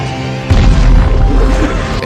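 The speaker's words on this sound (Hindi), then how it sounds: "जैसे ही तीर थाईथोई में लगे तो तीर में मौजूद काला पाउडर से जोर का धमाका हुआ" Black-powder-tipped arrows explode in a fantasy battle scene from the 2016 film The Great Wall: a heavy, deep boom bursts in after half a second and rumbles loudly to the end.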